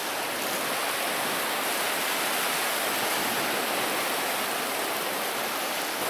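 Sea waves at the shore near an island, a steady, loud rushing wash of surf with no break or voices.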